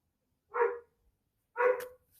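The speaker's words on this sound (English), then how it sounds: "My dog's barking." A dog barks twice indoors, two short, sharp, fairly faint barks about a second apart with silence between them.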